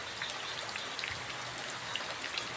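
Rain falls steadily over open rice fields in the Philippines, a dense, even hiss of drops with scattered brighter patters, continuous and moderately close.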